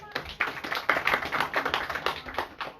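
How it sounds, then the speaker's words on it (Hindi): A small gathering at a Krishna Janmashtami katha claps in thanks, a close, uneven patter of hand claps from a handful of people that rises and falls over a few seconds. "तो हम इनको हृदय से और तालियों से धन्यवाद देते हैं।"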